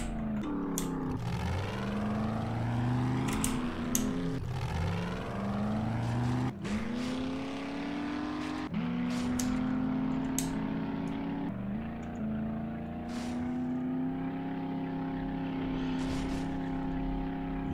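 Jeep and motorcycle engines from 7 Days To Die revving repeatedly, pitch sweeping up through several gear changes before settling into a sustained drone, close and continuous without talk.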